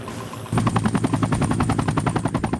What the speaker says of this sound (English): Here's the chopper.